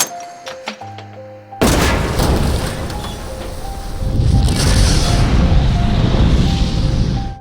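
A bomb detonates at a door in a zombie film set at a remote guard post, a sudden loud blast after a few sharp ticks and tones, followed by a long, rumbling, crackling roar of destruction.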